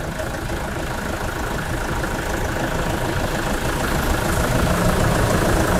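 Toyota Fortuner with a 2KD diesel engine idling steadily and smoothly at close range, a continuous even rumble with no talking.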